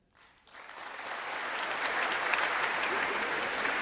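Applause for a speech builds quickly from a few claps into sustained, dense clapping from a large audience that holds steady to the end.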